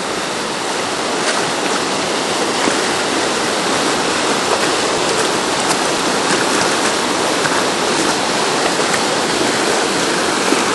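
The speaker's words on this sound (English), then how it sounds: "Go up to the rapids a little bit." River rapids rushing in a steady, loud, unbroken roar of churning water, close by and constant throughout.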